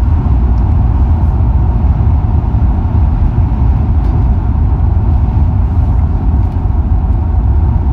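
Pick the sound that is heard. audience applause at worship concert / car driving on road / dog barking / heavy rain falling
car driving on road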